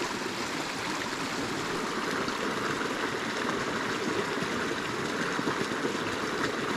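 A small creek in brook trout country, its water rushing and burbling in a steady, close, broadband wash with no voices.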